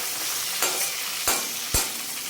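Cashews and onions fry in a pan with a steady close sizzle, broken by three sharp scrapes or taps as the mix is stirred.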